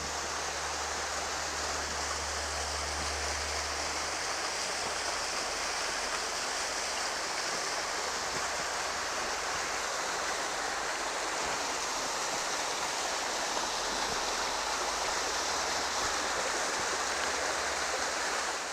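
Cataract Falls in the Great Smoky Mountains pours with a continuous, even rush of falling water, nearby and steady throughout, with no talking over it.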